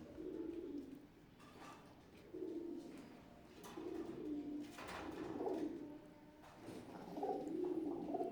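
A Teddy pigeon, a KTM breeder female, gives soft, repeated coos in short rhythmic phrases, close but quiet, with brief pauses between calls.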